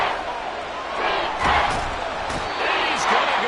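Stadium crowd noise at a Seahawks game in Madden 24, a loud roaring crowd with swelling cheers and a few sharp impacts, sustained throughout under faint voices.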